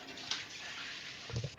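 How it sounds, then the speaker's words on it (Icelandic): A person urinating into a toilet indoors, a steady trickling stream of liquid running continuously into the bowl, close and fairly quiet, with a couple of slightly louder splashes near the end. "Ert þú að pissa?"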